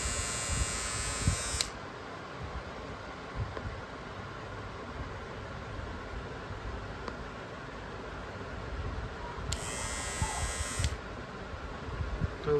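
An electric NOVA NHT 1074 USB-charging trimmer runs with a continuous high buzzing whine, close and steady for the whole stretch, with no speech.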